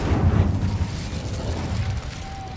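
An Incendio fire spell is cast in a Harry Potter video game: a rumbling whoosh of flame swells at the start, then settles into a lower crackling roar that fades over a couple of seconds.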